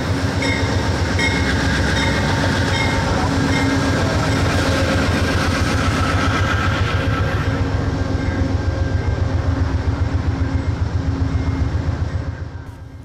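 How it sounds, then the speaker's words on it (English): Amtrak 42 passenger train pulls away eastbound in the Alleghenies: a loud, steady rumble of engine and rolling cars with a rhythmic clickety-clack of wheels over rail joints, holding strong before easing off in the final second. "Amtrak 42 announces its departure and continues east towards New York's Penn Station."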